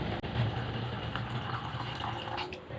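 Hot water poured into a container or bowl, a steady close rush of liquid filling the vessel from start to finish, with no speech.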